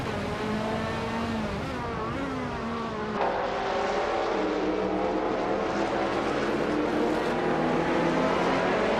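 A 1989 Ferrari F40 competition race car in a racing video game revs hard, its engine note rising and shifting pitch, then climbing again after a gear change, loud and continuous throughout.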